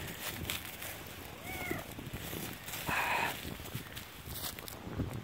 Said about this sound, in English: Get away from me, cat!